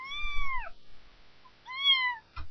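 A cat meows twice, clear and fairly close, with a short gap between the calls and a faint low thump at the end.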